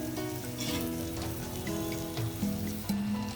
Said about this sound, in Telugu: రొయ్యలు కొంచెం ఇలాగా మగ్గనిద్దామండి సిమ్లోను